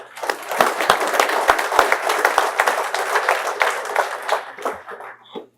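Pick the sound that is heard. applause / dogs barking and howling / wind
applause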